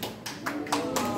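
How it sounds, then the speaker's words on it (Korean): Brief scattered hand claps from an audience at a charity golf tournament award ceremony in Chuncheon, a few separate claps over roughly a second. "자, 박수 한번 주십시오."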